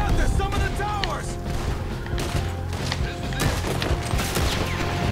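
Rapid, loud volleys of gunfire in the video game Red Dead Redemption 2, overlapping shots and crackling bursts throughout over a dense in-game battle din.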